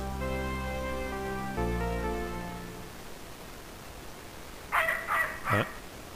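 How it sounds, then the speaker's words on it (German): Three sharp dog barks in quick succession, ringing out from a Snatcher video game scene just after a sustained musical chord fades away. "Ich glaube, mein Hund bellt."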